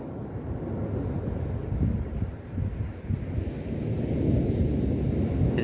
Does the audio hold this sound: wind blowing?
yes